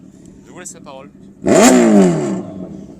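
A motorcycle engine revs hard once at a car meet in a Lille parking lot, a loud rising roar that swells and then slowly fades, following someone speaking briefly nearby.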